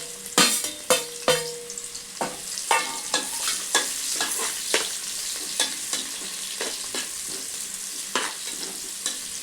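Onion sizzles in oil in a pressure cooker for biryani while a spoon scrapes and stirs it in repeated sharp strokes, close and loud at first and steadier later over the constant frying hiss.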